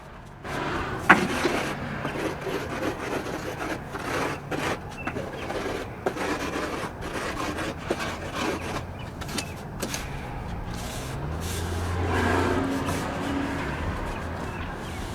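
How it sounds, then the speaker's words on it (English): A broom sweeps polymeric sand into the joints of interlocking pavers laid over old concrete outdoors, giving continuous close scratchy bristle strokes in a loose rhythm, with a swelling rougher pass near the end. "we're pressing it in with the broom"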